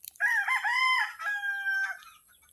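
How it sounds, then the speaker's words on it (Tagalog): A chicken, likely a rooster, gives a single loud, close crow lasting about two seconds, rising and then trailing off in a strained note. "Gulat naman ako sa manok."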